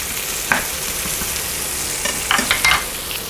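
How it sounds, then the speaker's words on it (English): Steady sizzling of onions frying in a pan after bacon, with a few clinks and scrapes of stirring near the start and toward the end. "I need to caramelize onions after bacon."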